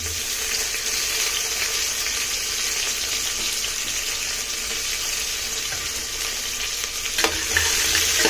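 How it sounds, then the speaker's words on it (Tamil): Garlic, onion and tomato sauté in a pan, giving a dense, even sizzle that stays close and loud throughout, with faint stirring and a sharper clatter near the end, and no speech. "நல்லா வதக்கிக்கலாம்"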